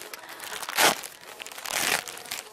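Plastic packaging from a Bonprix clothing parcel crinkles and rustles as it is opened, two louder bursts of crumpling close to the microphone with quieter handling in between.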